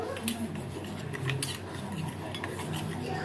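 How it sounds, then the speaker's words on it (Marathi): A spoon mixes Nescafe instant coffee and sugar in a small bowl, giving a quick run of close scraping and light clinks against the bowl, with no talking. "दोन्हीमध्ये आपल्याला मिक्स करून घ्यायचे मस्तपैकी कॉफी आणि साखर"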